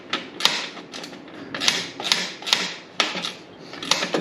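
Close, sharp metallic clicks in irregular bursts from a ratcheting wrench tightening the bolts of a curved license plate frame mount, the quick ratchet clatter repeating every half second or so with brief pauses.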